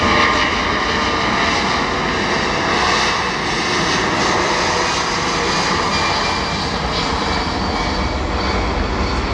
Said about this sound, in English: Considering the size of this aircraft, the acceleration is very impressive.